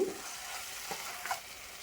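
Stirring a mixture of soy sauce and tomato sauce in a pan for egg soup, with soft scraping and faint sizzling spread across a short stretch and no one talking.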